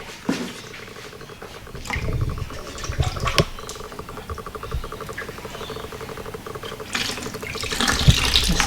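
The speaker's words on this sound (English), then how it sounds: "Just get the rest of your water out." Water drains and trickles steadily out of the radiator of a first-generation Toyota Hilux Surf under restoration, a constant splashing patter with a few clanks.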